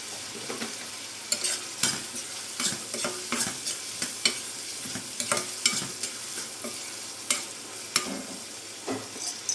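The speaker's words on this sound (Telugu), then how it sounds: "ఉల్లిపాయలు తొందరగా వేగిపోతాయి" Sliced onions fry in a pan with a little salt, a steady close sizzle broken by repeated scraping stirs at an irregular rhythm, with no talking.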